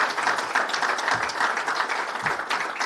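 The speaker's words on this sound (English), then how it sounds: "So big round of applause for all of them." Audience applause at a college athletics press conference: steady, dense clapping from a room of people, even in level throughout without any speech.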